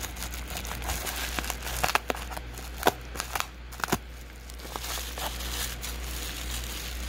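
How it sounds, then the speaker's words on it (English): Cardboard fan mail package being cut open with an X-Acto knife, close crinkling and crackling of packaging with scattered sharp snaps and rustles, irregular and fairly quiet over a low hum. "Probably be easier to cut them open."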